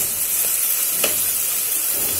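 Tomatoes sizzle loudly in a pan as they are stirred, giving a dense, constant hiss with a faint scrape partway through.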